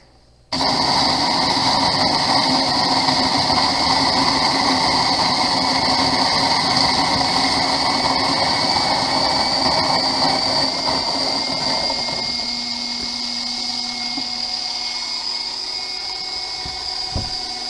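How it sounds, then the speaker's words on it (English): A coffee grinder grinds whole coffee beans, a loud, steady whirring roar that starts abruptly and runs continuously, easing slightly in pitch and level toward the end, with no talking. "Into the grinder they go."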